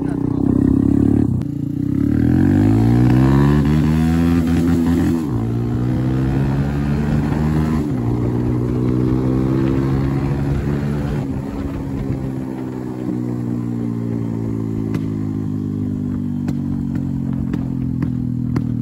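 A motorbike engine running during a ride, loud and close, a steady droning hum whose pitch rises and falls as the throttle changes, continuous for the whole stretch.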